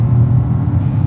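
Raspy three-cylinder engine of a Peugeot 2008 on a test drive, a steady low drone heard from inside the car, continuous and fairly loud with no talking.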